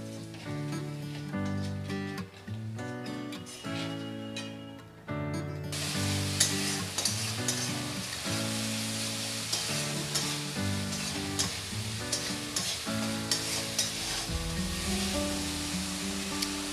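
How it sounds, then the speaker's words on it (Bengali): Spice paste with chopped tomatoes and a splash of water is stir-fried in a pan, a steady sizzle and scraping running beneath continuous background music. "এবার আমি মশলাটা ভালো করে কষে নেব।"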